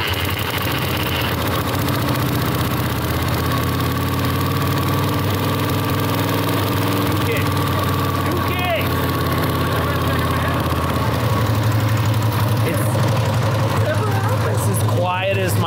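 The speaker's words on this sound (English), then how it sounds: "It's as quiet as my 55, dude. The engine is quiet." A kick-started motorcycle engine idles steadily and quietly throughout, a low even rumble with people talking nearby over it.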